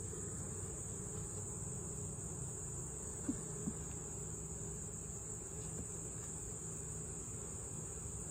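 A steady honeybee hum from inside a hive fills the whole stretch, a low, even buzzing close by with a couple of faint clicks partway through.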